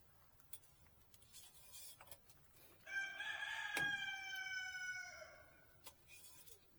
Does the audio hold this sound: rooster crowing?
yes